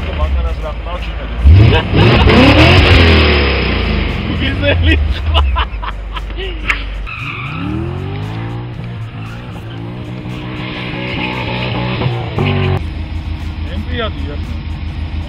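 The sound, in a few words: car engine revving and tyres skidding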